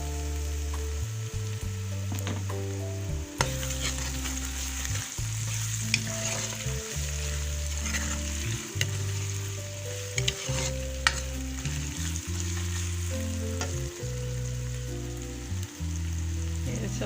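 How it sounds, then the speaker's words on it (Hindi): Garlic-ginger paste sizzles in hot oil with already fried onions in a pan, a steady close crackle overlaid by repeated scraping and stirring strokes, with no talk. "प्याज हमारा फ्राई हो गया है, अब मैं लहसुन अदरक का पेस्ट शामिल कर रही हूँ।"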